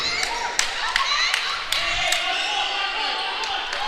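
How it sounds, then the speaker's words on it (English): Fans cheering at a girls' high school basketball game between USN and MLK, a sustained crowd roar with scattered claps and sharp ball bounces echoing through the gym. "MLK fans cheering for some reason."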